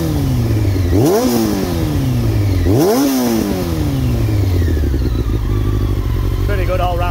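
A Honda CBR600 F4 sport bike with a Delkevic Xoval exhaust is revved twice, each blip rising sharply and falling back to a loud, close idle, with no talk over it.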